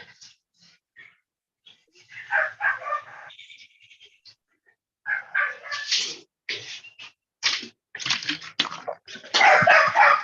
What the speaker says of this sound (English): But I want to bark at something.